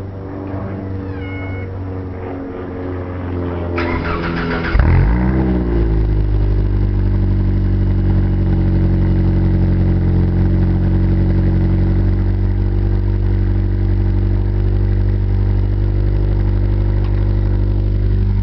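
A tempo motor engine starting up and warming up: a rising whine and sputter at first, then a loud, steady, low idling rumble that carries on alone.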